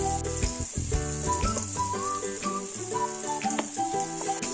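Spices and tomato frying in a pan while being stirred for a pumpkin and Malabar spinach curry, a steady close sizzle under music with a bright whistling tune.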